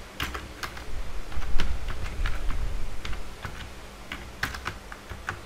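A computer keyboard rattles with quick, uneven bursts of close, crisp keystrokes as someone enters text, continuing steadily with short pauses between runs.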